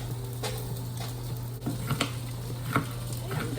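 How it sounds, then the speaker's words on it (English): A knife dicing green pepper on a board, a few sparse chopping knocks spaced irregularly over a constant low electrical hum. "I'm dicing up my green pepper right now."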